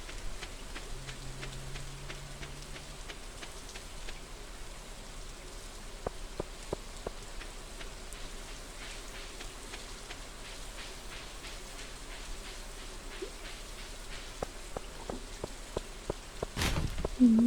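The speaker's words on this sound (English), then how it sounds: "It's just a boring rainy day." Steady soft rain patter from the Stardew Valley video game, a continuous low hiss with scattered light drops running the whole time, fairly quiet and even, with a brief louder chime-like blip near the end.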